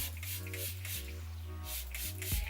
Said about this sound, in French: je prends mon spray d'eau que je mets un peu partout